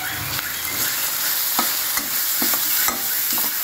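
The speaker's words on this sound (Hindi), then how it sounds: "तो यहाँ पर हमारा लगभग प्याज भुन गई है, और देखिए ऑयल भी होने लगा है।" Onion, garlic and ginger frying in oil in a pan for a masala, a steady close sizzle with occasional clinks and scrapes of a spoon stirring.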